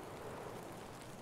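Steady rain falling in the shooter game Escape From Tarkov, a dense, even hiss that carries on unbroken throughout without any voices.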